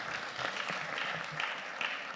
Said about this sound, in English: Let's clap for the auditors kindly.